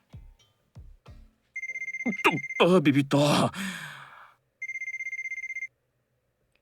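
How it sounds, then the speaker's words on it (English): Phone ringtone from a visual novel game set around a remote island trip, a repeated electronic trill sounding in two bursts separated by a spoken exclamation and sigh, with a few soft taps at the start. "Just as I was turning the page to see if there was a map of the island, my phone rang."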